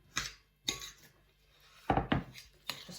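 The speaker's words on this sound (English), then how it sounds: "just give it a mix" A spoon stirring an oaty biscuit mixture with apple juice in a bowl, four or five distinct scraping strokes with short pauses between them, close and fairly quiet.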